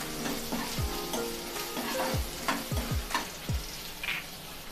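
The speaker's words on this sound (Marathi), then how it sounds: "किसून घेतलेला आलं सुद्धा ॲड करूया आणि हे सुद्धा परतून घेऊया" Grated ginger is sautéed in a pan for dal palak, sizzling steadily up close while several low thumps and scrapes from a spoon against the pan recur, and no one speaks.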